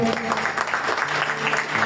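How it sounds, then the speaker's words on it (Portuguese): A church congregation applauds during a Mass for the Virgin Mary, a dense, continuous wash of clapping from many hands filling the sanctuary, brief and steady at moderate loudness. "Por isso vamos aplaudir a Virgem Maria."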